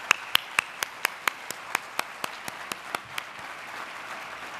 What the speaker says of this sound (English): Let's give them a round of applause and thank them